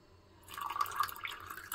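Water pours into a glass of powdered sugar for a tamarind summer drink, a soft liquid trickle and splash that starts after a short quiet moment and runs on at moderate volume.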